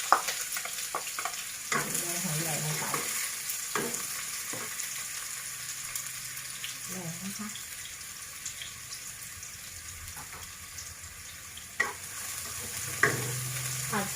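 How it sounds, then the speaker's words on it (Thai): Oil sizzles steadily as shallots fry in a pan while a utensil stirs and scrapes now and then, with occasional clinks; no one speaks. "เราก็จะเปิดไฟ ตั้งกระทะน้ำมันเลยนะคะ หอมแดงนะคะ"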